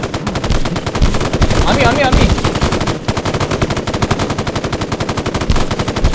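Rapid automatic gunfire in a multiplayer horror video game, a dense, loud, even stream of shots that keeps going for several seconds under brief speech.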